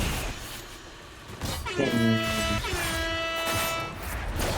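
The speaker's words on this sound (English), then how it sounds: "the air horn was for him doing the fade rift" A soundboard air horn blares in a few sustained blasts under background noise, after a brief stretch of quieter sound.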